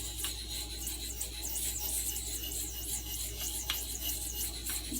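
A Stockman sheepsfoot knife blade is worked on a stone in small circles, giving a soft continuous rasping rub with faint repeated scraping strokes, close and quiet, with no talk.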